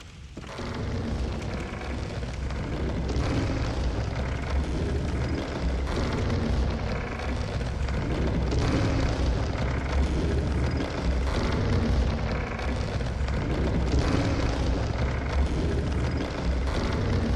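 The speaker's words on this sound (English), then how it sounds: "He has a cannon." Cannon fire from an enemy in the video game Bloodborne, heard as a dense, continuous roaring rumble with repeated heavy booms rising out of it, loud and sustained throughout.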